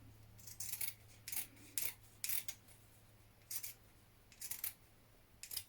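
Scissors trim the seam allowance on a jean jacket in about nine short, crisp snipping cuts at uneven intervals, close and clear against a quiet background.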